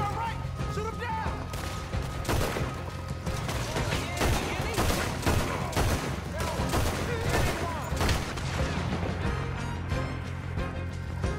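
Gunfire from Red Dead Redemption II: a rapid fusillade of sharp shots and cracks over a noisy game battle, with voices talking underneath.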